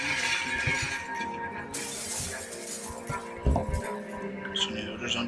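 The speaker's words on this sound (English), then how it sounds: "Smashed window." Window glass shatters in the Project Zomboid zombie survival game, a loud crash followed by scattered tinkling shards, then a second sharp impact, over steady game background noise and occasional voice.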